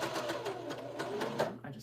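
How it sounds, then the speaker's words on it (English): A sewing machine runs a straight stitch in a rapid, steady mechanical patter. It is close and fairly quiet, with a faint voice in the background. "I'm going to go over and sew real quick right here and just get these done"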